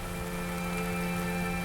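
Steady rain falling and pattering on surfaces, a dense continuous wash of drops with no break and no voices.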